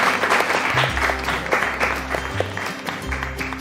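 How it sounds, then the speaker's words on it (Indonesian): Classroom of students applauding a classmate named Dandi, a steady patter of clapping hands close by, with a low droning hum running underneath throughout. "Tepuk tangan ya untuk Dandi"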